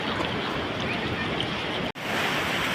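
Continuous roar of surf and rushing water, loud and steady, with a brief dropout near the end.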